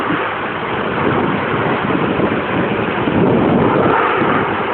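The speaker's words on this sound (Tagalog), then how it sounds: "malakas talaga yung agos ng tubig" Strong floodwater rushes through Caniogan, a loud, continuous broadband roar of churning current with no pauses and no voices.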